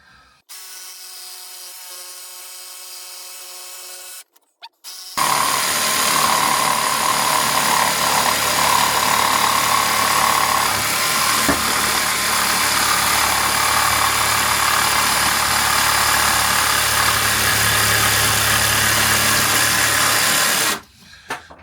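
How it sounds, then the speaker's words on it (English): An old DeWalt jigsaw fitted with a reasonable blade cuts through wood in a workshop, running as a loud, steady buzzing rasp for about fifteen seconds after a brief quieter stretch, then stopping abruptly. "it's an old DeWalt jigsaw, and I've got a reasonable blade in it"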